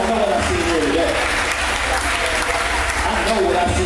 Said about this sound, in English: give yourselves a hand clap